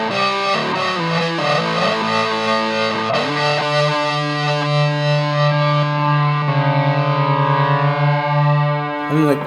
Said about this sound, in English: I really like that sound with the overdrive. And then of course you add a bit of tremolo with it if you like.